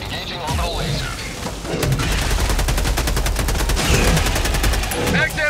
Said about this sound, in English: Engaging orbital laser.